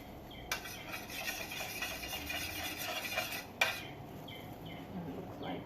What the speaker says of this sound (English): I'm just gonna stir it so it doesn't stick to the bottom of the pot.